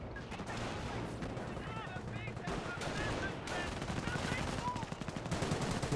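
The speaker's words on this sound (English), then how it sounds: "Two half track firing away, but taking a lot of damage from multiple sources" Half-track machine guns rattle in steady bursts in the WWII strategy game Company of Heroes, layered over dense battlefield gunfire and explosions, with a commentator talking continuously over the action.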